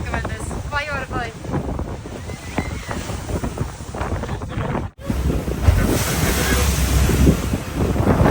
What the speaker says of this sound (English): look at these waves, like splashing